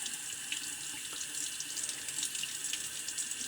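Running tap water pours steadily into a sink while shaving cream is rinsed away, a continuous close splashing hiss with small gurgling variations throughout.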